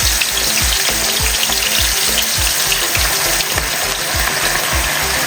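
Loud, continuous sizzling and crackling of fish frying in hot oil in a pan, with a steady hiss and rapid popping throughout.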